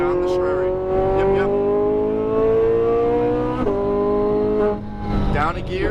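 A Lamborghini Huracan Performante accelerates on a race track, its engine note climbing steadily in a loud, close drone with a brief dip at a gear change before rising again. A voice talks over it.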